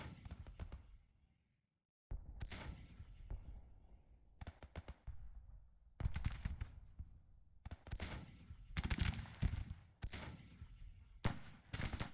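Artillery and gunfire from a Grand Tactician battle, a series of sharp booming blasts in irregular bursts with a short silent gap early on, fairly loud and close.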